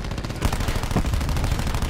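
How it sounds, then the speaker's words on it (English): Rapid pistol gunfire in the video game Call of Duty Black Ops 4, a loud, dense run of repeated shots layered with game noise, with no pauses across the short stretch. "He just killed me with a pistol."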